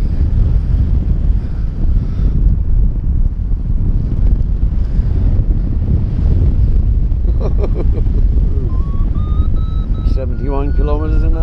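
Strong wind buffets a microphone while paragliding up a valley, a loud, steady low roar throughout, with a voice talking over it and a high electronic beeping tone near the end.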